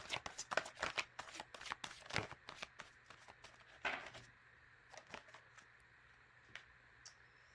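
A deck of cards being shuffled and tapped, fast clustered riffling and slaps at first, then a few sparse taps, fairly faint and close.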